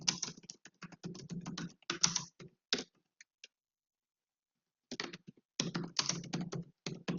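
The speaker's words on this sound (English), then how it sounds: "we're going to be typing in enter passenger's cabin number." Keys clatter on a computer keyboard in quick bursts, close and crisp, with a pause of near silence midway before the rapid typing resumes.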